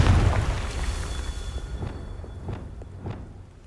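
A Confringo fire spell in Hogwarts Legacy explodes with a loud, deep boom that rolls off into a rumbling decay, followed by a few fainter thuds and pops as it fades.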